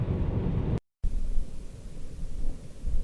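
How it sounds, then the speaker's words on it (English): Thunder rolls during a desert storm in California, a loud, deep rumble that cuts out for a moment and then resumes as a continuous low roar under wind noise. "Thunder and lightning."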